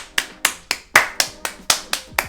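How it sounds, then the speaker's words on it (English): A quick run of about nine sharp hand claps in a steady rhythm, close and clear with no voices, offered as a round of applause celebrating a court ruling that XRP is not a security in the SEC case against Ripple. "Round of applause, ladies and gentlemen"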